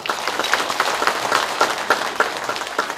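Applause rises from Democratic Party members at a party leadership candidate's speech in Ulsan, a steady crowd clatter with sharper individual claps poking through for about three seconds, moderately loud and free of talk.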